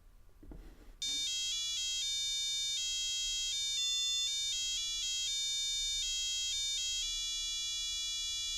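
An Arduino-driven buzzer plays a melody of bright electronic tones in quick succession, loud and steady for about seven seconds after a brief handling noise, with repeated notes running together rather than separating.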